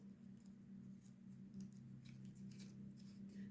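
Scissors snip through a paper circle while a patterned rosette is cut by hand, a steady run of close, crisp little cuts and rustles over a low steady hum.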